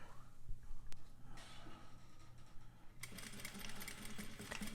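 Sewing machine back tacking at the start of a seam, a soft hum giving way to a sudden burst of close, rapid needle clatter in the final seconds, quiet and without talk.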